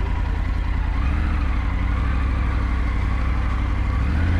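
Triumph Tiger 900 GT Pro motorcycle engine idling, a steady low rumble close by and alone at an even level.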